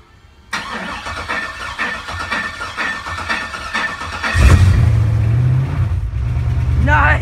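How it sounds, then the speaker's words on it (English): An LS-swapped C10 truck engine cranks for its first startup, with a rough, uneven starter churn, then catches and settles into a loud, deep idle. People talk briefly at the end. "this is gonna be the first startup"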